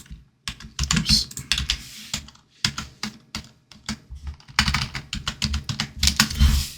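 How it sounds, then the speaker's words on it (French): Computer keyboard typing in quick bursts of close, crisp key clicks with short pauses between runs while values are entered, no voices. "on tape beaucoup de valeurs au clavier"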